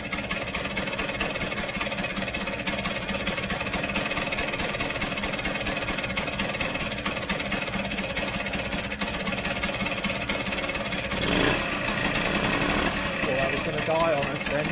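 Cold Vespa GS scooter engine idling steadily with the airbox removed, a continuous mid-pitched tick-over running throughout, close by, with a cooling fan blowing and a brief louder burst near the end.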